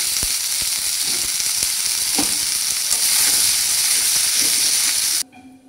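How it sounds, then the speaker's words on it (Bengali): Ridge gourd frying in hot mustard oil, a steady loud sizzle with bursts of spitting crackle and a few stirring clacks, cutting off abruptly near the end. "ঝিঙেটা একটু ভাজা ভাজা করে নেবো।"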